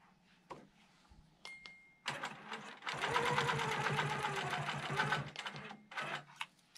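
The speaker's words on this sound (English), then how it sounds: "I'm going to go ahead and baste the edge down." A longarm quilting machine basting a quilt edge, a rapid rhythmic stitching chatter for about three seconds, framed by quieter clicks and handling noises at close range.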